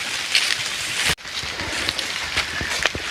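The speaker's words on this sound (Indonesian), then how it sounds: "Moga-moga nggak deras, cuma hujan aja." Steady rain falls through a mossy mountain forest on a night trail, a dense continuous patter with scattered nearer drops and one brief dropout partway, no talk.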